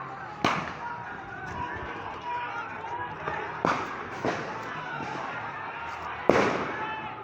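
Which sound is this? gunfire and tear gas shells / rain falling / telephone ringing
gunfire and tear gas shells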